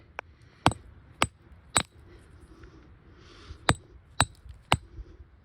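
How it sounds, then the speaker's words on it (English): Rock hammer striking gneiss at a fault scarp in Millard Canyon, seven sharp, ringing metallic cracks at irregular intervals, close and clear against a quiet outdoor background. "Let's hammer it up a bit, see if we can get a fresh break."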